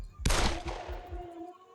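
Gunfire in a 3D first-person shooter video game: one sharp, loud shot bursts out suddenly, then rings and decays with a lingering metallic tail.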